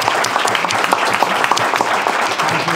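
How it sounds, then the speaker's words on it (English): Audience applause at a business networking event on workforce retention and customer service, a dense steady patter of many hands clapping close by, continuous and fairly loud throughout without talk. "A round of applause, please."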